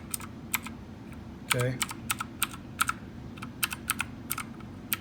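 Rapid, uneven keystrokes clack on a Redragon Kumara LED-lit wired mechanical gaming keyboard, with crisp close clicks in bursts and a brief spoken word partway through.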